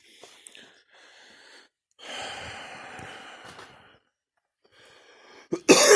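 A man coughs and sputters on a farm in short, breathy bursts separated by pauses, close and fairly quiet, ending with a sharper, louder outburst.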